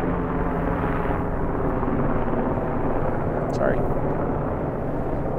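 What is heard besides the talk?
helicopters flying overhead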